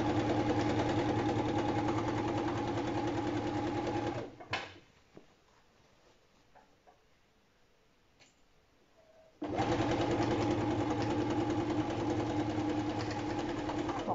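A sewing machine stitches fabric with a steady, loud mechanical hum that runs for several seconds, stops for about five seconds of near quiet, then starts again and keeps running to the end.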